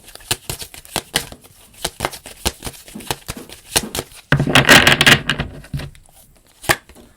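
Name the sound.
shuffling tarot cards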